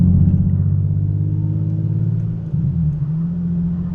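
A stock Infiniti G37 with resonators hums steadily under load on a highway with a deep exhaust drone, a brief shift in pitch midway like a gear change, then continues.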